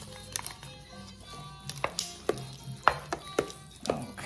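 Spoon stirring and mixing meat filling for Puerto Rican pasteles in a pot, with irregular scraping knocks and thumps against the pot over soft background, no talking.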